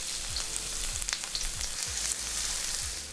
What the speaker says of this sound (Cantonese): we'll add the garlic and the ginger.